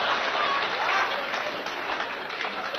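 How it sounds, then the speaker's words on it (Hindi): Applause from an audience at a Hindi poetry conference, a dense steady wash of clapping that holds at an even loudness throughout, with no voices above it. "इस स्कीम पर तो बुजुर्गों ने सबसे ज्यादा तालियां बजाई"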